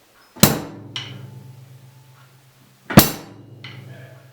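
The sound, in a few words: bass drum and hi-hat played together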